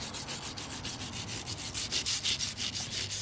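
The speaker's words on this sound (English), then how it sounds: "So let's start scratching or brushing." Stiff scratching and brushing at a Plasti Dip coating on a car wheel rim, a quick, even run of close rubbing strokes repeating about five times a second, with no talk.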